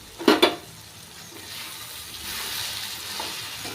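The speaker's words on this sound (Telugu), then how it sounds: "ఐదు నిమిషాల తర్వాత ప్లేట్ తీసి మధ్య మధ్యలో కలుపుతూనే ఉండాలి ఫ్రెండ్స్, లేకుంటే అడుగు అంటుకుంటుంది." Ridge gourd curry in a pan is stirred, with a couple of sharp utensil scrapes, followed by a soft, steady sizzle of frying close by.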